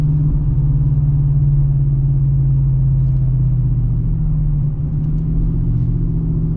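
A lowered 2025 Ford F-150 Black Widow pickup at partial throttle, a steady low engine drone and road rumble heard from inside the cab with the windows up, even and sustained with no voices.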